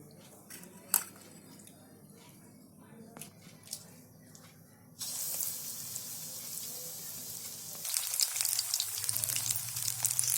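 An egg dipped in batter is slid into a small amount of hot oil for egg bhaji, and a moderate sizzle starts up and then grows louder and busier, with faint background noise before it.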